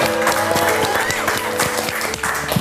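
A live audience breaks into a burst of applause, dense clapping that fills the short moment at close range, with a faint murmur of voices underneath.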